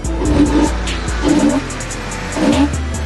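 A Porsche 986 Boxster S engine with the intake snorkel removed revs up repeatedly in three throaty bursts over a deep steady idle, loud and close with no talking.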